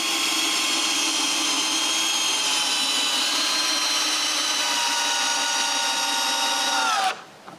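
A power drill drives a screw into the wooden frame of a firewood shed, one continuous high whine that stops abruptly near the end.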